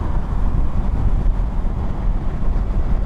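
A Honda NX500 twin-cylinder engine in sixth gear overtaking at 100 km/h, heard as a continuous low engine drone blended with road and wind rush, loud and steady throughout without speech.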